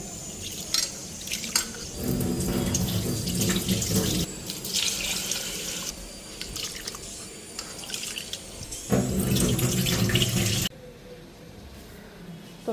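Rice washed by hand under a running kitchen tap, water splashing steadily into a sink with sloshing and rinsing bursts, close and fairly loud, stopping near the end.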